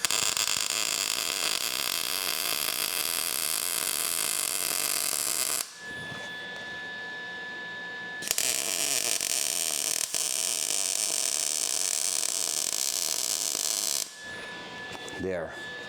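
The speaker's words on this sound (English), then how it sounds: "So right now I'm gonna start welding those two parts here" MIG-style welding of two tube parts for a car wheel arch reinforcement, a loud steady crackling hiss in two long bursts with a short pause between, then a brief quieter gap at the end.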